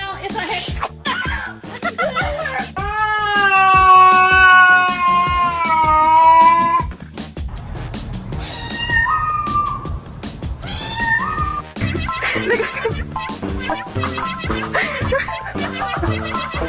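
A cat meows loudly in a long drawn-out wail followed by several shorter yowls, while people talk and chuckle nearby.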